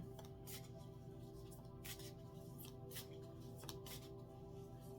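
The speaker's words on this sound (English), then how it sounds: "So I'm going to do a light shuffle here." Tarot cards being lightly shuffled by hand, several soft, quick riffling bursts spaced irregularly over a steady low room hum, quiet and close, with no talking.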